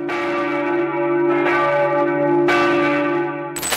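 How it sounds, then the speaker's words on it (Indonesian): Church bells ring for a royal funeral, with sustained resonant tolls that swell and overlap, struck again partway through, loud and close. "Gereja-gereja di sana juga akan membunyikan lonceng setelah dan juga sesudah pemakaman."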